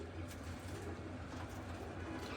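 Pigeons kept in a loft coo in soft, low, repeated phrases close by, against a faint background hum.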